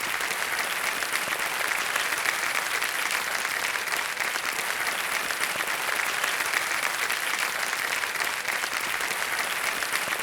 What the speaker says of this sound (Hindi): देवियों सब जोरदार तालियां बज जाए इनके लिए